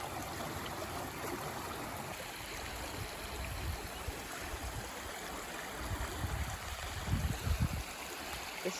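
Water draining from the adit of an old copper tunnel mine in woodland, a soft continuous trickling flow heard close, with a few louder gurgling splashes near the end.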